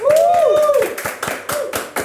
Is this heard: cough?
no